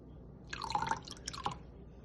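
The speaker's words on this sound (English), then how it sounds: "I'm going to add a little over 1 tablespoon of white vinegar, and this will give the flavor or the acidity of buttermilk" A little over a tablespoon of white vinegar is poured into milk to sour it like buttermilk for Irish soda bread, making two short, soft bursts of dripping and splashing that stand alone in a quiet kitchen.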